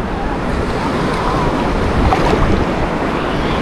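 Surf at a beach in Anapa on a wavy day: a steady, close rush of breaking sea waves mixed with wind noise, with no clear pauses across a few seconds.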